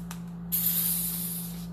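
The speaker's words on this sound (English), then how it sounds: "So you do that and then you spray." A short, bright hiss as an oil sprayer bottle releases a mist of oil in a kitchen, starting with a tiny puff and then a steady spray that slowly tapers off, heard alone over a faint background hum.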